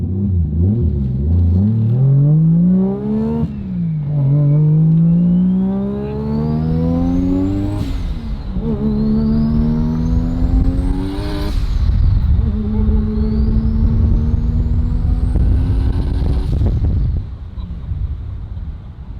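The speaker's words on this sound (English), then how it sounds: "Turbo 3 rotors" A three-rotor Mazda RX7 with a 75mm turbo accelerates hard on the street, its loud buzzing rotary note climbing through several gears with sharp shift breaks and turbo whoosh, close and dominant.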